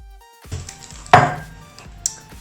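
A knife cuts through a coffee and chocolate sponge cake, giving a few soft scrapes followed by one sharp clack of the blade against the board and a lighter tap at the end, close and alone.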